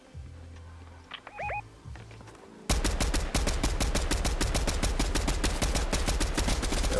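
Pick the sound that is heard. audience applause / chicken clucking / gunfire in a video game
gunfire in a video game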